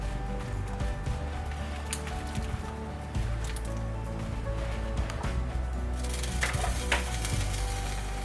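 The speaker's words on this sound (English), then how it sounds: "we're just gonna go ahead and drop all of our potatoes in" Potatoes drop into a pot roast simmering in a pot, a busy wet bubbling and sizzling broken by soft splashes and clattering bumps, loud and close throughout.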